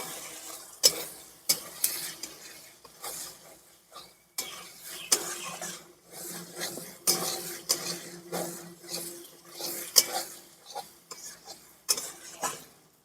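Roasted ground spice masala being stirred in a pan for a Bengali moong dal dalna, with repeated scraping strokes in an uneven rhythm over a soft sizzle, close and fairly quiet, no speech.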